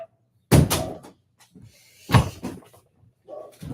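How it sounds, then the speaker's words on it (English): Household door shut at home: two solid thuds a second and a half apart, close and loud, with faint rattles and small knocks between them. "I'm going to go shut my door because my dog's barking."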